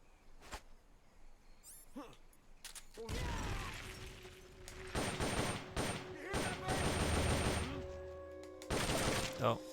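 Gunfire in Metal Gear Solid: Peace Walker, with sharp shots and bursts that come in rapid clusters alongside mechanical clicks and game effects, loud and close, while voices occasionally talk over the action.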